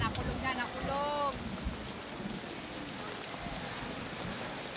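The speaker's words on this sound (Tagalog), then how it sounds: "O yan, nakulog." Rain pours steadily at a beach during a downpour that halted a volleyball game, with a low rumble of thunder running under the hiss and a brief whistling tonal sound early on.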